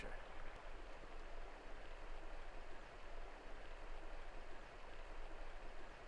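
A river flows steadily in the background, a constant broadband rush of moving water, fairly faint and unbroken throughout.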